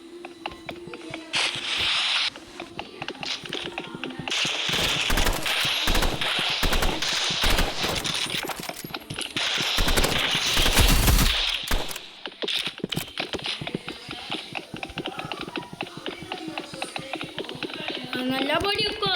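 Sniper rifle and other gunfire in a shooting video game: sharp shots and rapid bursts ring out almost continuously, loud and close, while a person talks over much of the action.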